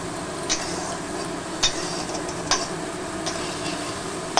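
Spice masala frying in a pan for a pabda fish curry, a soft continuous sizzle punctuated by a few sharp clinks of a spatula against the pan at irregular intervals.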